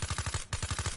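Rapid automatic SMG fire from Black Ops 3 multiplayer, a tight run of about a dozen evenly spaced shots split by a short pause, loud and close with no talk over it.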